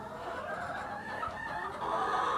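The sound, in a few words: chickens clucking in a coop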